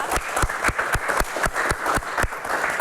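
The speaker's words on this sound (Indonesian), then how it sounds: "kita berikan tepuk tangan dulu." A studio audience at an Indonesian political talk show claps in a steady, fairly even rhythm, with dense sharp hand claps running for about three seconds and no talking over them.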